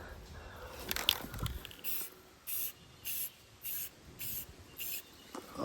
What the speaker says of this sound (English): Just gonna paint them because I really don't care if they're spray painted or not.